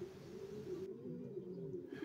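A pigeon cooing near a loft, a low soft throaty coo rolling on for about two seconds, faint and close, with no talking.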